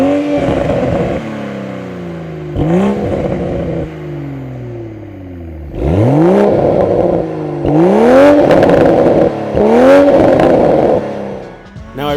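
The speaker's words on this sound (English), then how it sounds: "the exhausts on both cars sound pretty much identical" A 2025 BMW Z4 M40i with manual gearbox revving its exhaust repeatedly, loud close bursts climbing and falling in pitch with pauses and gear changes between them, no talking.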